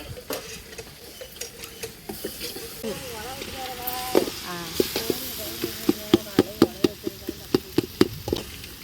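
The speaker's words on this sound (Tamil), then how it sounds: "இதில் வந்து வெங்காயம் தக்காளி அதுக்கப்புறம் இஞ்சி புட்டு பேஸ்ட் எல்லாம் சேர்த்து நல்லா வந்து வதங்கிட்டு இருக்கு" Onion, tomato and ginger-garlic paste sautéing in a pan, a steady sizzle and hiss broken by sharp, regular clinks of a spoon stirring against the pan that grow louder and more frequent toward the end.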